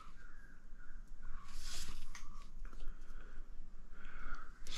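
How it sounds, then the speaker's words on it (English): Crows cawing outdoors in the morning, several harsh calls repeating at a moderate distance over a steady background. "You hear them birds going crazy out there, crows."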